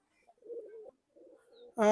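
Golden Commander pigeons coo in two soft, low murmuring phrases close by, followed by a sudden loud harmonic burst at the end.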